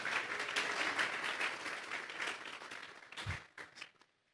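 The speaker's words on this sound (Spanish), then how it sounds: "Vamos a darle un fuerte aplauso pues al Señor." Church congregation applauding during a Spanish-language sermon, a full crowd clapping steadily that thins out toward the end into a few scattered claps and a soft thump before fading.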